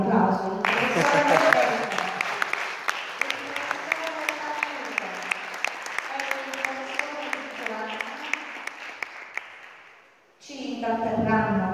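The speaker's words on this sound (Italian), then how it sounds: "ma fategli un applauso" An audience applauding a musical trio at a Christmas evening concert, sustained clapping with sharp individual claps standing out, fading near the end before a voice resumes briefly.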